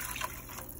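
Two cups of water poured onto vegetables and roux for gumbo, a brief close splashing trickle under faint background noise.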